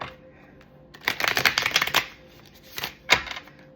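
A tarot deck is shuffled in a few quick bursts of crisp riffling and flicking cards, close up and fairly quiet, with short pauses between bursts.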